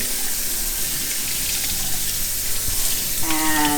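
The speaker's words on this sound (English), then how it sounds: "So we'll just rinse these off with cold water." Cold tap water runs steadily into a sink, rinsing grapes, with a continuous hiss and splash that gets brighter and more gurgling toward the end.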